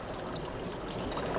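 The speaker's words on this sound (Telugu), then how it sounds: "ఇటేమో నీళ్ళు వస్తున్నాయి." Water runs steadily from an inflow beside a household water tank, a continuous close rushing trickle with no pauses.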